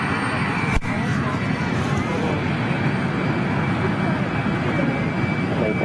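An aircraft climbing out at Zurich airport gives a steady, broad jet roar that stays loud and continuous throughout, with one sharp click or thump near the start.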